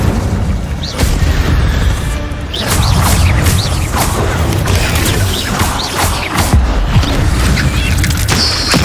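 Casting the Incendio fire spell in Hogwarts Legacy gives a loud, dense roar of booming bursts and whooshing crackles that repeats across the battle with no pause.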